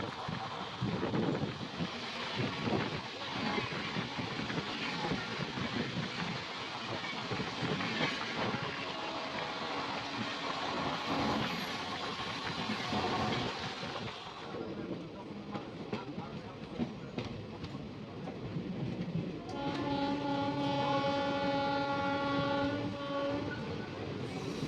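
An express train running from Agartala to Secunderabad via Guwahati rumbles past at close range with steady wind-buffeted clatter, then a sustained horn blares near the end; no talk over it.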